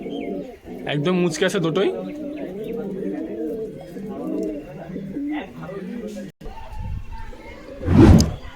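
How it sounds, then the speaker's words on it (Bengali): A female pigeon coos in a series of soft, low calls at close range, beside another bird in a pair, with a person speaking over much of it and a brief louder burst near the end. "মাদিটাও ডাকছে, দেখতে পাচ্ছ,"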